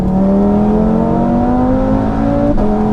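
A 740bhp Audi RS3 under throttle, its engine note rising steadily in pitch as it accelerates hard, loud and close, with a brief dip near the end and no talk over it.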